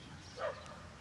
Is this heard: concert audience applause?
no